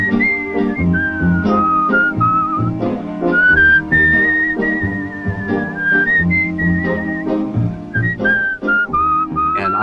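Whistled melody carrying a chorus on an old song recording, bright sustained tones gliding and warbling above a loud, steady band accompaniment, continuous throughout.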